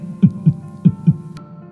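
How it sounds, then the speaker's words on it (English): A slow heart beating in lub-dub pairs, two double thumps about half a second apart, deep and close over a low steady hum, alone with no voices. "all you could hear was and his heart beating"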